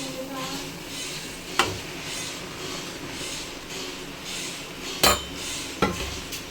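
A spoon mixing fried okra in a pan for a gravy, soft stirring scrapes over a light sizzle, broken by a few sharp metallic knocks against the pan.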